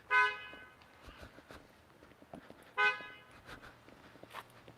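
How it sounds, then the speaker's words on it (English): A car horn honks twice, short loud toots a few seconds apart, over quieter street noise and scattered knocks. "So we're honking here"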